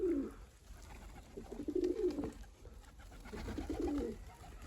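Domestic pigeons coo in soft, repeated rolling phrases, three close bursts with short pauses between, over a quiet background.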